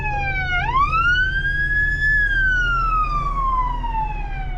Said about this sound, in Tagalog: may dating ambulance, kailangan natin tumabi